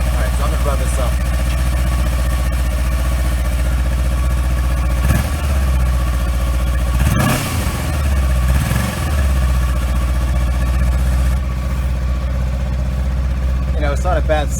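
A Kawasaki Versys X300 motorcycle with an aftermarket exhaust pipe idles loudly and steadily up close, with a couple of brief revs rising and falling midway and a voice talking over it.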